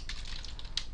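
Typing on a computer keyboard while coding, a few quick, light key taps close by in a quiet room.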